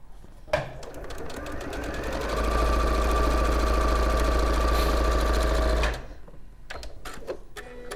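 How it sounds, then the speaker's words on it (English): A sewing machine runs in one continuous stitching burst for several seconds while a sashiko-style fabric basket is being made, followed by a few sharp clicks and handling noises. "I'm just carrying on sewing, is that okay?"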